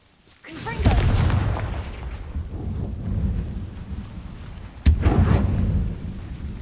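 Confringo blasting curse explosions in the open-world video game Hogwarts Legacy, two heavy booms, the second sharper, each followed by a rumbling decay over ambient game noise.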